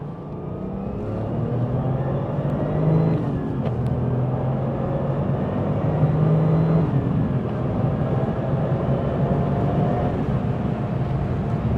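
A 1997 Porsche 911 Turbo engine heard from the passenger seat, a steady loud drone with rising pitch sweeps as it accelerates through the gears, continuous throughout with no talking.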